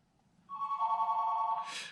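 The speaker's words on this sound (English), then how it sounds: "Do I need to get that phone?" A telephone in a quiet indoor room gives one steady electronic ring lasting just over a second, ending in a short burst of noise. No one speaks.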